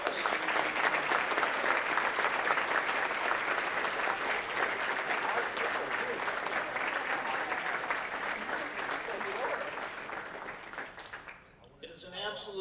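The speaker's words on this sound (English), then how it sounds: "Let's please give them a round of applause." A dinner audience at the Adrian College President's Dinner 2014 gives dense, sustained applause for about eleven seconds, fading out as a voice begins speaking at the end.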